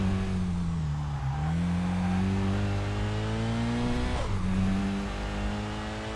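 A racing car engine in the driving game Kaido Racer 2 drones steadily and loudly, its pitch dipping and climbing with gear changes and throttle, heard alone without talk.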